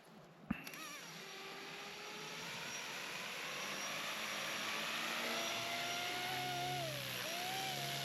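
An RC model helicopter lifts off at 20% throttle after a sharp click. Its motor and rotor whine swell steadily in loudness and pitch, then waver, with no voices.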